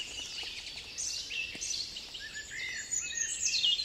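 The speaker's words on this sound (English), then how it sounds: "About 4 robins singing." Several robins sing together in a spring dawn chorus, thin high warbling phrases overlapping continuously at moderate distance with no voices.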